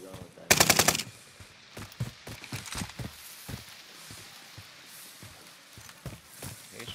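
Call of Duty: Modern Warfare gunfire opens with a loud, rapid automatic burst, followed by scattered single shots and quieter distant pops during online play.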